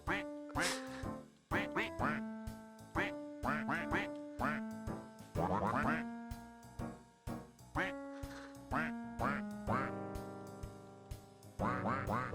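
Repeated duck quacks blended into a jazz-style music track, sounding in quick bursts over sustained tonal notes throughout, loud and up front with no talking.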